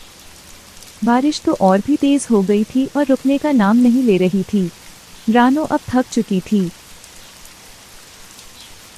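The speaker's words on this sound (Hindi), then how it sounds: "बारिश तो और भी तेज हो गई थी और रुकने का नाम नहीं ले रही थी।" Steady heavy rain hisses and patters throughout while a voice narrates over it in the middle.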